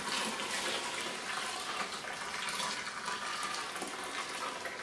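Hot water pours steadily onto mashed grains during a batch sparge for all-grain homebrewed pale ale, a continuous loud splashing rush lasting throughout with no voices.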